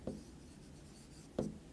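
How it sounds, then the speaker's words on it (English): Two short pen or marker strokes during a physics lesson on constant and variable force, each a quick scratchy burst spaced over a second apart, faint against a quiet room with no talking. "Okay, so if you want, I can write down here."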